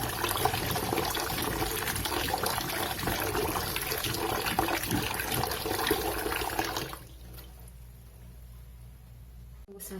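Tap water runs in a steady, loud gush while potatoes are washed for mashed potatoes, then cuts off sharply about two-thirds through, leaving a quiet room.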